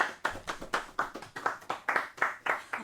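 An audience claps in steady, sharp bursts to welcome Nils at a live showcase event, fairly close and without talk, the claps rising and falling in quick rhythmic waves.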